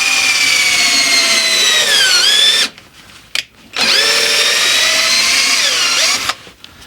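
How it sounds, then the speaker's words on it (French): A power tool cleans the threads of a ball joint on a Mustang steering rack, giving two long, loud, steady whirring runs. Each run dips in pitch near its end, with a brief stop between them. "Ici, je vais nettoyer le filet de la rotule."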